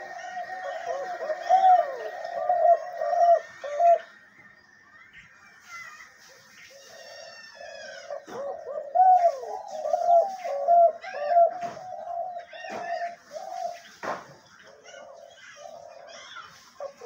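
A spotted dove kept as a hunting decoy coos in repeated soft, mellow phrases, close and clear, with quiet gaps between bursts and faint background noise.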